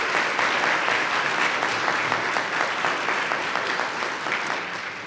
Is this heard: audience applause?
yes